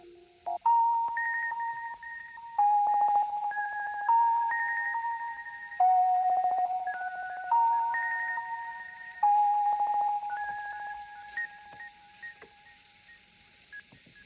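A single music box note turned into a stuttering lo-fi loop by a beat-slicing plugin in Logic Pro, with bright chiming tones repeating in short chopped patterns, fairly loud and alone, fading toward the end.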